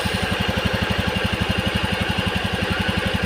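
Honda Beat FI scooter engine idling with its throttle position sensor removed, a steady rapid mechanical pulsing close by, even and continuous throughout.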